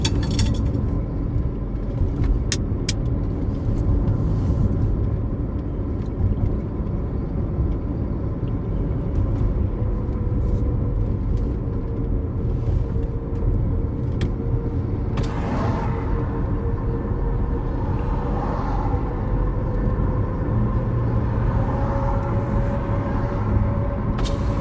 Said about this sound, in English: Tires whining.